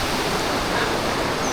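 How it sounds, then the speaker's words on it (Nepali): Cold Langtang river rushing through the valley, a steady, dense broadband roar of water that fills the scene continuously with no breaks. "यो चाहिँ लाङटाङ नदी हो। एकदमै चिसो पानी छ यो लाङटाङ नदीमा।"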